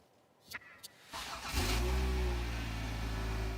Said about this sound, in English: That's the sound of the second engine Rick Lingard had to pay to put into his 2011